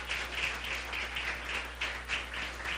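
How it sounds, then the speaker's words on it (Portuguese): A church congregation claps together in praise during a service. The clapping comes in an even, rhythmic series of beats, close and fairly loud, with no voices over it. "Aplauda ao Senhor por esta palavra maravilhosa."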